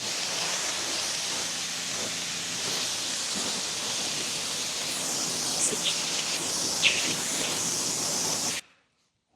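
Pressure washer at a little over 1,000 PSI with a 40-degree nozzle spraying a car during a wash, a steady loud hiss of water spray that runs unbroken for about eight and a half seconds before stopping abruptly.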